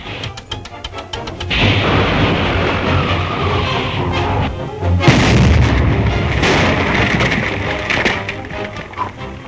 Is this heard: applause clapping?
no